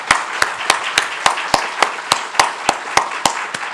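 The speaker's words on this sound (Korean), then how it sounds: "우리 한번 하나님께 영광의 박수 한번 돌려볼까요?" A church congregation at a Friday prayer service claps in unison, thirteen sharp, evenly spaced claps in a steady rhythm, loud and close with no talk over them.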